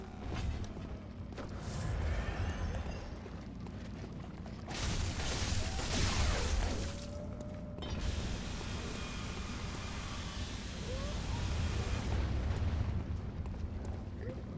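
Explosions in the video game Bloodborne, rumbling blasts in long roaring bursts with hissing debris, moderately loud and continuous, rising and falling over several seconds.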